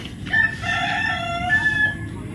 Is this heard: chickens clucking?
yes